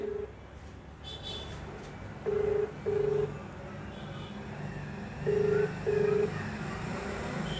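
A phone call ringing out to a police outpost in-charge in Ghughli, Maharajganj, with repeated paired ringback tones at steady intervals over a quiet background hum.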